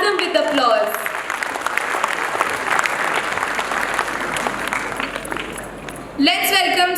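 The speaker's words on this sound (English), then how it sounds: "I request the parents to please show their enthusiasm with applause." Parents in the audience at a school's 16th annual day celebration burst into a full, dense round of applause that fades toward the end, with a voice over a microphone before and after it.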